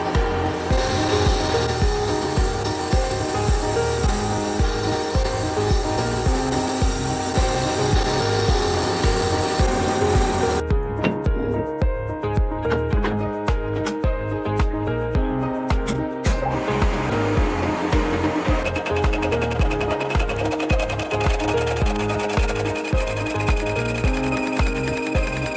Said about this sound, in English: Roughly pre-turning the shape of the ball.